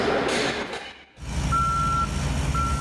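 A construction truck reverses at a night site, its engine rumbling after a brief drop in sound while sharp reversing beeps repeat at a steady rhythm.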